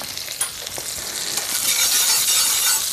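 Butter sizzles and crackles steadily in a hot saucepan for a roux, close up, with a faint scrape near the start and the hiss growing slightly louder.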